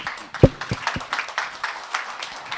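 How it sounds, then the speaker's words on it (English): Scattered audience clapping at a conference plenary session, a few sharp close claps standing out at first, then a light, uneven patter of applause continuing throughout. "a round of applause for our second artistic expression artist"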